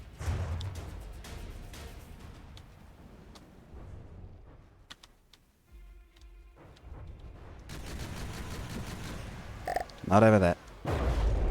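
Shotgun-type weapons fire in the naval and land combat game From the Depths, with rapid bursts and booming impacts that rise toward the end, while someone talks over the action.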